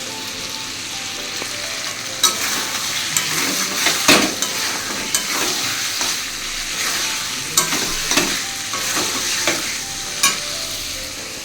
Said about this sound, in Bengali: এখানে এই যে চিকেনটা কষানো হচ্ছে